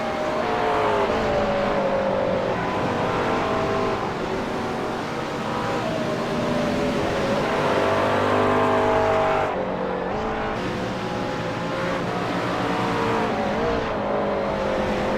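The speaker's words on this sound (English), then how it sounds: "trying to muscle that McLaren through those S's" A McLaren race car at a Race of Champions event powers through tight S-bends, its engine note loud and continuous, rising and falling with shifts and throttle, with occasional tyre squeal.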